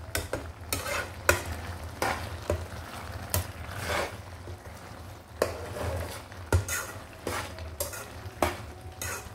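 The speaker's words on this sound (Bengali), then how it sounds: "এখন এখানে আমি যে শিমের পিসিগুলা ভেজে রেখেছি এগুলো দিয়ে দিব, দিয়ে আমি একটু নাড়াচাড়া করে ঢাকনা দিয়ে রাখবো" Fried bean pieces stirred in a cooking pan: steady scraping and clacking strokes repeat in an irregular rhythm over a continuous low sizzle, close and moderately loud, with no talk.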